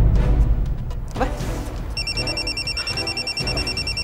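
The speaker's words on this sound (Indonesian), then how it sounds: "Saya tinggal angkat telepon dulu ya." A telephone rings with a repeated electronic warbling tone in an indoor domestic scene, starting midway and pulsing steadily under low room noise and movement.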